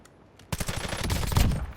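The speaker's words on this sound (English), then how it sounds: "Now shooting my targets, you can see how much easier it is" Rapid burst of automatic gunfire from target shooting in Warzone, starting abruptly after a brief quiet lead-in and continuing as a dense, loud rattle of closely spaced shots.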